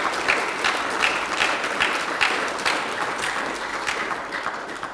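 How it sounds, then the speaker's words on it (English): An indoor audience at an evening church gathering claps loudly for the social committee, a dense, steady burst of applause that carries on for the whole stretch with no voices over it. "So let's give them a loud clap so they can hear us."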